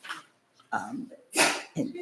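A sharp, forceful sneeze bursts out amid short breathy vocal sounds, with brief pauses between them.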